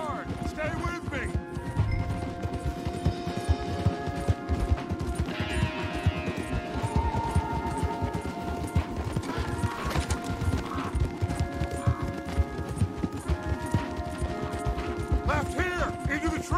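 Horses gallop with rapid, rhythmic hoofbeats and rattling tack, continuous and close, under busy game sound effects and occasional voices, in Red Dead Redemption 2.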